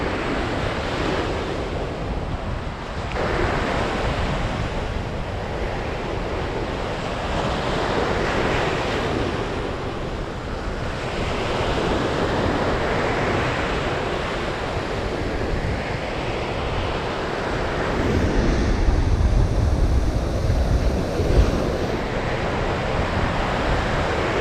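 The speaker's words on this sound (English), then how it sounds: "it's hard to tell whether you got a bite or whether it's just the waves crashing on the line" Sea waves crashing on a North East Scotland shore during flounder fishing, a steady roaring wash of surf with wind buffeting the microphone, swelling louder toward the end, no speech.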